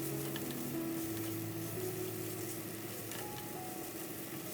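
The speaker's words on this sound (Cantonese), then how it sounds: "炒下肉粒" Diced meat stir-fries with onion in a pan for a tomato macaroni soup, giving a continuous soft sizzle with light scraping and patter, fairly quiet and steady throughout.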